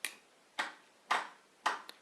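A Raspberry Pi RFID door lock gives its unlock signal as four sharp clicking snaps spaced about half a second apart, followed by a fainter fifth tick, crisp and close with silence between them.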